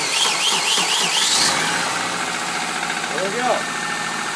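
A Subaru engine cranks and catches after a fresh battery is fitted, settling into a steady idle hum close by, with a voice speaking briefly over the start.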